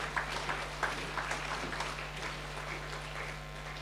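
Applause from an audience at a football-netball league awards night, greeting the netball team of the year: a steady patter of many hands clapping, moderately distant and gradually thinning out, over a constant low hum.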